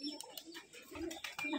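Rajshahi Giribaz pigeons, including black birds, cooing nearby in soft repeated low calls, with some faint chirps mixed in.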